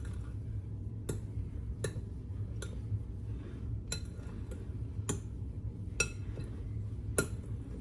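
A utensil stirs a Parmesan cheese mixture in a container, sending out sharp clinks against the side at a slow, steady pace of about one knock per second. The sound is close and clear over a low background hum, with no talking.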